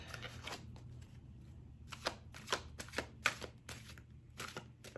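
Tarot cards are shuffled by hand in a quick series of crisp riffles and flicks, close and fairly quiet, over a low background hum.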